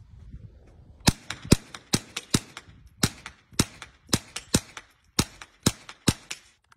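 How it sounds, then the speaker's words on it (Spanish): A .22 caliber AK-47-style rifle is test fired, producing about fourteen sharp, loud cracks in an uneven rhythm with short pauses between shots. "Vamos a hacer esta pequeña prueba de disparo."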